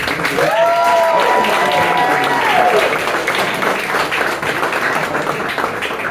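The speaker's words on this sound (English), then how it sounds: "Give her the warmest round of applause." Applause and cheering from a comedy club crowd, steady and full, mixed with whoops and a prominent voice rising over the noise early on.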